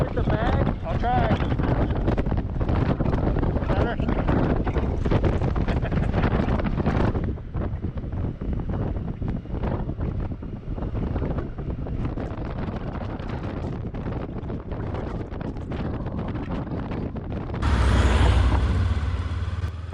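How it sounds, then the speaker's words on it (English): Heavy wind buffets the microphone as a passenger rides on the back of a Honda Goldwing motorcycle, a continuous loud rush over a low road drone that briefly surges louder near the end. "I hopped on the back of Mike's Goldwing"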